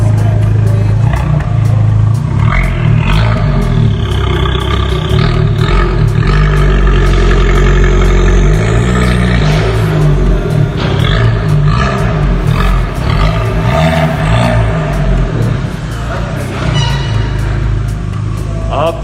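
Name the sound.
Fiat 500 petrol engine running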